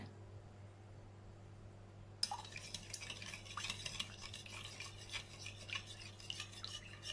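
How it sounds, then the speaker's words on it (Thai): A spoon stirs a stock cube into a microwaved daikon radish soup. A quiet start gives way to steady scraping and clinking against the dish, which continues without pause. "ก็ให้เราคนซุปก้อนให้ละลายนะคะ"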